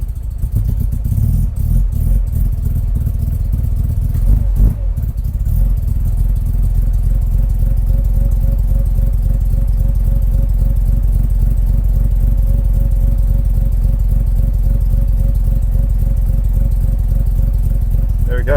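A Mazda RX-5 engine runs lean, then settles into a steady idle. The drone is loud and constant, with a brief blip near the start and the rest holding even.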